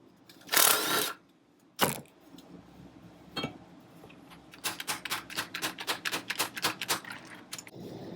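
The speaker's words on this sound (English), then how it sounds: "we'll see if we can get this upper nut off at least" A 1962 Cadillac front suspension upper nut being worked loose, heard as a quick run of sharp, evenly spaced ratchet clicks close by after a few isolated knocks and a brief rush of noise, with no talk.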